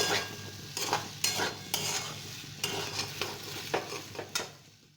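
Okra with poppy seed paste sautéed in a pan, a soft continuous sizzle broken by repeated stirring scrapes and spatula knocks at an uneven rhythm, fairly quiet and close.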